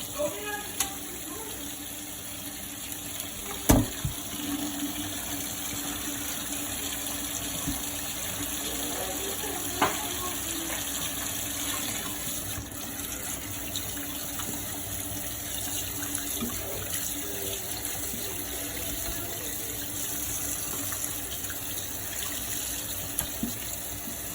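Tap water runs steadily into a kitchen sink while oxtails are rinsed, a constant close splashing hiss with a few brief knocks and clatters.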